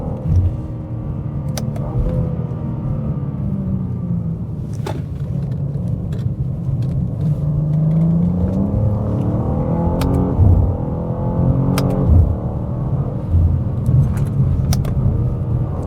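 A BMW M2 G87 or M4 CSL G82 drives on a race track on cold tyres, its engine a steady low drone and rumble heard from inside the car, with small clicks and knocks over the top.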